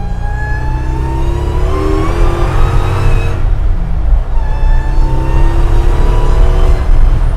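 A 745 hp Chevy C10 truck doing a burnout, its engine revving hard and loud and up close, a steady roar with pitch rising and falling through two long surges.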